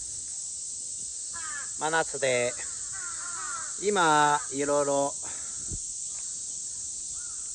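Birds and insects call in midsummer, bird calls and caws sounding in short bursts over a steady high insect drone, with a person talking through the middle.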